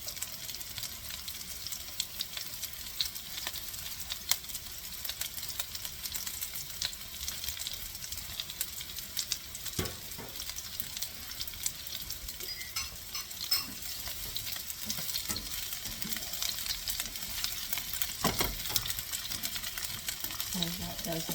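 Beef meatballs browning in a pan give off a steady, close sizzle and frying crackle with occasional stirring scrapes, running continuously with no talk over it.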